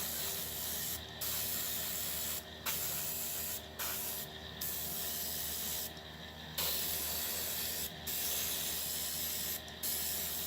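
Paint spray-gun bursts lay down a first smoky coat, giving a series of close hissing sprays of varying length separated by brief pauses, heard over a constant background hum.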